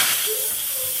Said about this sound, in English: Lots of steam.